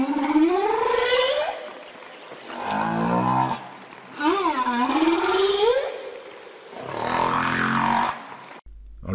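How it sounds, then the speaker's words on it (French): A blue whale's song plays as four long, loud, moaning calls with rising and sweeping pitch, separated by short pauses and free of talking. "En l'occurrence, c'est le chant d'une baleine bleue."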